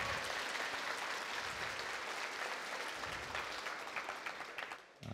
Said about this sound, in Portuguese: Primeiro uma salva de palmas para o André.